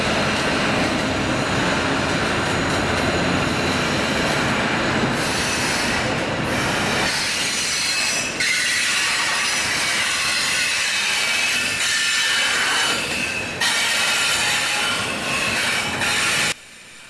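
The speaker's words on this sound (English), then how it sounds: "That nail-biting screeching that you heard before is coming from the train 11Z" A freight train's wheels screech loudly and continuously as it brakes to a stop at a rail yard in Scranton, Pennsylvania, with a harsh high metallic squeal over rumbling cars that eases off near the end.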